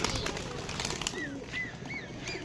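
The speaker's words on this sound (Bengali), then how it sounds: "দেখতে পাচ্ছেন বন্ধুরা মুটকি খোলা পেয়ে পায়রাগুলো কীরকম লুট করে নিচ্ছে" Pigeons feed in a loft, several soft coos and short calls rising over a rustling, scratchy background of pecking and movement, fairly near and quiet.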